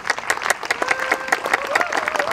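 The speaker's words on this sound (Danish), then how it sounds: "Klap til dem" An audience at a Constitution Day event for minorities claps together in a dense, steady round of applause that lasts the whole moment, close and lively, with a thin tonal sound running underneath.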